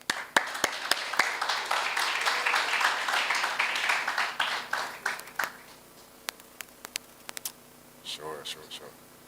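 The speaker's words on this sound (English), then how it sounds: "Let's give a round of applause for that." Audience applause at a Jamaican short film competition night, scattered sharp claps swelling into a dense round of clapping that fades out, leaving a few isolated claps and a brief voice near the end.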